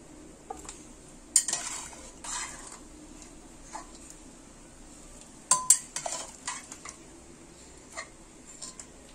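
Boiled bottle gourd and potato are drained and lifted into a separate vessel: scattered metallic clinks and knocks of pot and utensil handling over a quiet background, with a few sharper clusters of clatter.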